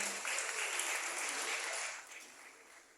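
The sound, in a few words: applause for Kang Amih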